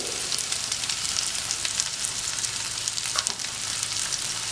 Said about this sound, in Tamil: வெங்காயம் வதங்கினதும் மஞ்சள் தூள் சேர்த்துக்கோங்க